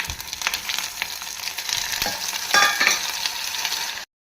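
Onions, green chillies, ginger garlic paste and tomato fry in a pan with a continuous close sizzle, broken by a few scraping stirs before the sound cuts off abruptly.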